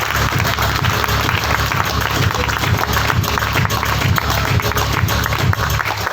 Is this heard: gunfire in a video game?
no